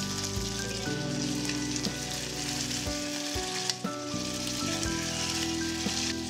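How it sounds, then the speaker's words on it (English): Blanched beef and scallions stir-fry in hot oil in a wok, a continuous close sizzle and crackle with a low steady hum running beneath it. "add blanched beef, continue to stir fry for a while"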